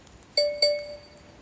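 Two short electronic tones from a metal detector ring out in quick succession during an outdoor coin hunt, each a clear bright ping that decays slowly over the quiet background.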